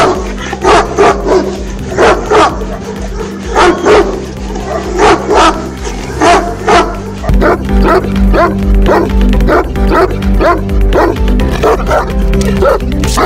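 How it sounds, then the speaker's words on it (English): Bully Kutta and Neapolitan Mastiff guard dogs barking loudly and repeatedly in a steady rhythm of deep, powerful barks close by, with a few yips mixed in. "Powerful and loudest bark. Let's hear it first and we'll decide accordingly."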